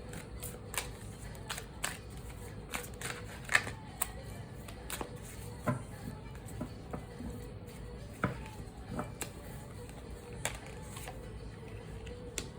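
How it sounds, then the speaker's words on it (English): A cannabis oracle card deck is handled and shuffled, giving faint crisp clicks and flicks scattered irregularly over a quiet background. "I'm going to pull from this cannabis oracle deck. Let's see what we get from this deck of cards."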